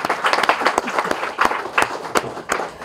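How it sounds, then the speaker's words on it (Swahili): An audience at a university scholarship fund launch applauding, with loud sustained clapping from many hands and sharp individual claps standing out above the rest. "Jamani, tujipigie makofi na tujipe maua yetu."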